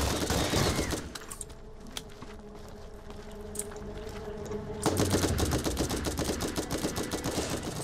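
Rapid automatic gunfire in Borderlands, a dense burst at the start, a quieter stretch with scattered shots, then another loud sustained volley of fast shots near the end.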